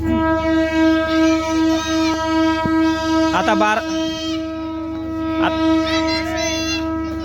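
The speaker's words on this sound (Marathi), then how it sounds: "तर मित्रांनो बार्शीवरून आपली ट्रेन निघाली आहे" The Parli–Sangli DEMU Express hums and rumbles as it departs Barshi station, its horn sounding in long sustained blasts over the engine drone, with a brief metallic clatter partway through.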